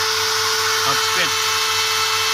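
A BITEC SGM 906 die grinder runs at top speed, a steady, close, high-pitched whine with a constant tone that holds level for the whole stretch, with no breaks or speed changes.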